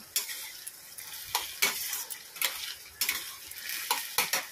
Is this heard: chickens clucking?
no